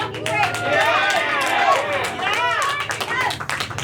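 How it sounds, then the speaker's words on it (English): Audience clapping fills a comedy club between a stand-up's bits, with cheers and scattered whoops over steady applause that swells and fades, while the room's chatter and voices sit underneath. "What a cheap applause."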